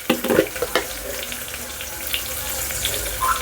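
A sprig of curry leaves hits frying onions in hot oil for dal khichdi, setting off a crackling burst at first that settles into a steady sizzle.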